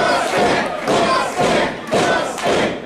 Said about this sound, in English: all these people cheering for a car they can never afford